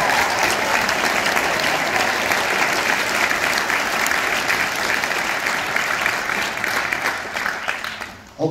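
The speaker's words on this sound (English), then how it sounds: "So please give them a round of applause for their symphony rating." Audience at a high school spring band concert breaks into sustained, dense applause, loud and continuous throughout before fading away at the end.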